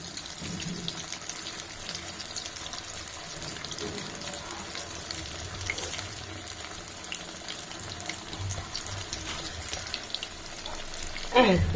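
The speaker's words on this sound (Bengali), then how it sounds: "তেল ভালো করে গরম হলে তখনই বড়াগুলা দিবেন।" Shrimp fish fritters frying in plenty of hot oil, a steady close sizzle and crackle that holds evenly throughout, with a brief louder flare at the very end.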